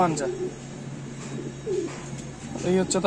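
Madrasi Giribaz high-flyer pigeons with closed tails coo in low throaty bursts near the start, middle and end, close by, while someone speaks throughout.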